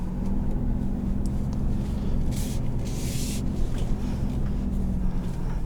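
A 2020 Ford F-250 Super Duty diesel pickup rolls over ruts, heard from inside the cab as a steady low rumble of engine and road noise. A few brief bumps and rattles break through the middle.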